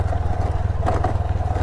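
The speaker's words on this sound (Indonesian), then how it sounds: "kalau kesini bisa naik motor seperti saya ini" A motorcycle on the ride to Jung Pakis beach in Tulungagung, with a steady low engine drone and rhythmic pulsing, close and loud, a brief rattle of higher-pitched noise near the middle.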